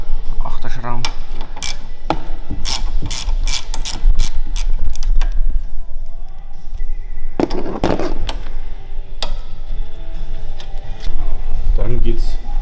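A ratchet loosening 8 mm screws on a VW Golf 8 fender: bursts of quick metallic clicking close up, pausing and resuming, with some tool and metal clatter in between.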